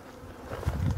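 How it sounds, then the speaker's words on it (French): Honey bees robbing leftover honey from a small nucleus hive buzz in a low, droning hum that starts soft and swells louder and closer toward the end. "c'est des abeilles qui, viennent euh, piller le reste de miel là, dans cette ruchette"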